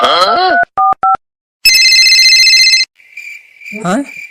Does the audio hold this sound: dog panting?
no